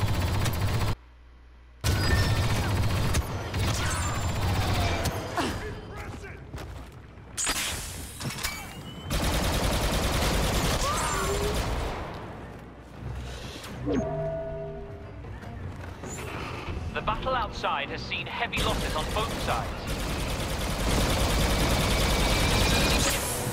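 A sentry gun in Star Wars Battlefront II fires amid a chaotic battle, with dense, loud bursts of blaster fire, booms and crashes over about twenty seconds. There is a short drop to near silence early on, and occasional talk can be heard.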